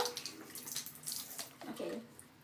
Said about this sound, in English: We let it go. The water comes out.